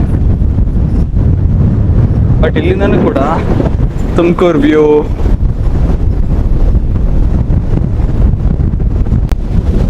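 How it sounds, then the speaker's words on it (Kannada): Strong wind buffets the microphone in a constant loud roar on the hilltop at Basadi Betta, an ancient Jain temple, with someone speaking briefly partway through, half buried by the gusts. "ಗಾಳಿ ಮಾತ್ರ ನೆಕ್ಸ್ಟ್ ಲೆವೆಲ್ ಬೀಸ್ತಾ ಇದೆ"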